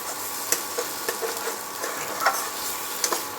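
Ridge gourd frying in a pan as it darkens near doneness, a constant soft sizzle broken by sharp scrapes and taps of a spatula stirring at irregular intervals, close and clear with no talk.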